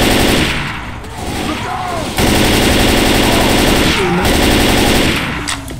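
Rapid automatic gunfire from Left 4 Dead 2, loud, close and sustained for several seconds, with a dense rattling stream of shots and a brief dip in the middle.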